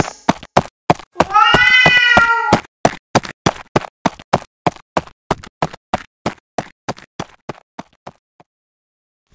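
A black cat gives a drawn-out wailing meow early on, surrounded by a long series of sharp, evenly spaced knocks or taps that gradually fade toward the end.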